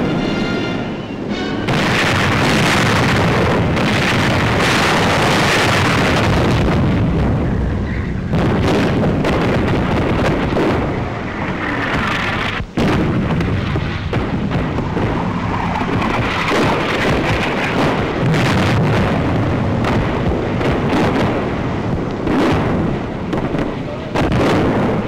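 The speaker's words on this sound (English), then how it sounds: "Long-range artillery started the attack." Long-range artillery barrage opening the World War II assault on Hill 609 in Tunisia, a dense, continuous roar of booms and rumbling detonations that stays loud throughout, with one sharp break midway.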